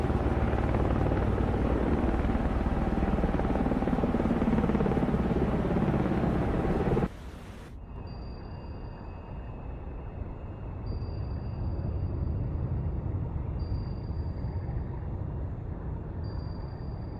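A helicopter comes in to land on a warship in the naval game Cold Waters, its loud, continuous rotor and turbine roar stopping abruptly partway through. A quieter hum of the ship follows, with short electronic tones recurring.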